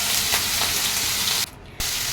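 Sliced potato and onion frying together in a home kitchen pan for breakfast chowmein, giving a steady close sizzle that cuts out briefly near the end and then resumes.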